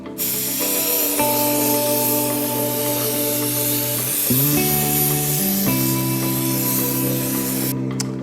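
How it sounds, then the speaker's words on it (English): An airbrush sprays thinned paint onto a rusty RC car body at about 25 to 30 psi of air, giving a steady loud hiss that runs the whole time, with a few shifts in pitch, and no one talking. "So there we got the first really light coat sprayed on here now."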